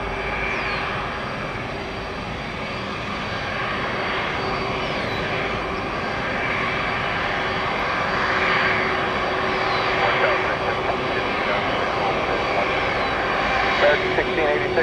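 Loud, continuous roar of a 32-year-old Airbus A300 jet airliner's engines, building slightly over time, with a voice talking over it.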